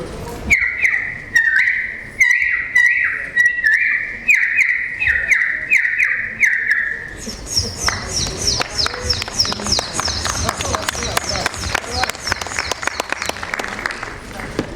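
A mimicry artist on stage imitates a parrot with a quick run of shrill, squawking calls, followed by a burst of audience clapping and clattering.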